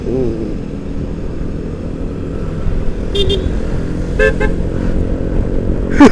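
A Yamaha NMax scooter's horn gives two short honks over a steady road and engine rumble while riding in traffic, with a rougher burst of noise at the very end.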